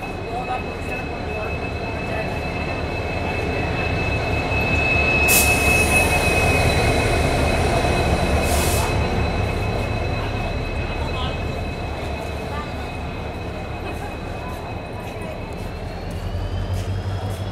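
Train 07377, a Vijayapura–Mangalore Central special fare train, arrives at a railway platform, with a loud, steady rumble of wheels and cars rolling past, brief squeals rising midway, and faint voices in the background.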